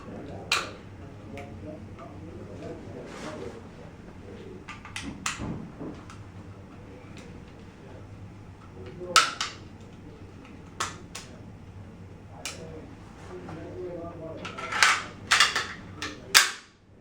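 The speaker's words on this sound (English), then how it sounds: "You just pop your trigger mechanism out of the pistol and you stick it back in there." A Sig Sauer P320 pistol's trigger mechanism is handled and reinserted into its frame, giving sharp metallic clicks and snaps scattered irregularly, some loud and close, over a low room background.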